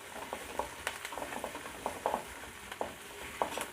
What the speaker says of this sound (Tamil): இப்போ நல்லா வதங்குது வெங்காயம்.